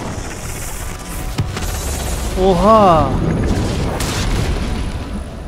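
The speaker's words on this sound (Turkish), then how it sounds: "Mancınıkla yanan top atıyorlar." Muffled booms and crashing impacts from a catapult flinging burning shots in the Assassin's Creed Unity video game, a sudden hit followed by a louder rumbling blast, with a man exclaiming over the game sound.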